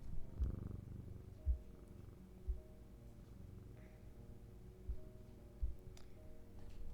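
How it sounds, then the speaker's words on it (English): A cat purring in a video game, a low steady rumble running throughout with a few soft thumps and faint ticks scattered over it, quiet and close. "Cat."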